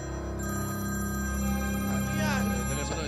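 A telephone rings with a warbling electronic tone, loud and close, as voices speak over it.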